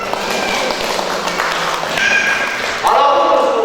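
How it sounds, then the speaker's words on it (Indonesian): Audience at a talk on creative business applauds briefly, a loose burst of clapping mixed with crowd noise and tonal sounds near the end, without clear speech over it. "Tepuk tangan dulu."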